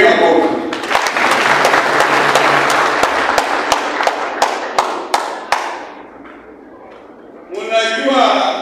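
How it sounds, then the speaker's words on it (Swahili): An audience at a political rally claps vigorously with sharp individual hand-claps standing out, then gradually dies away to near silence before a voice starts talking close by. "Tupigie makofi"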